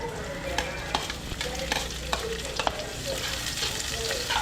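Onions sautéing in a pan for a home birthday meal, a steady sizzle broken by repeated sharp clicks of a spatula stirring against the pan, close and with no talk.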